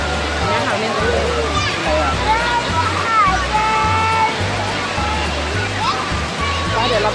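A steady, loud rush of falling water at Pang Sida waterfall fills the background, while a child and an adult talk nearby over the constant roar.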